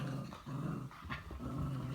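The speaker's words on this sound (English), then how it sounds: "My dogs are crazy." Pet dogs, a pug and a three-legged mutt, growl steadily up close, with a couple of short sharp bark-like bursts breaking through the low rumbling.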